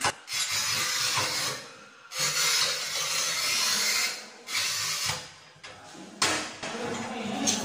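A tile cutter cuts through tile in a series of about five harsh, gritty grinding bursts separated by brief pauses, close and fairly loud.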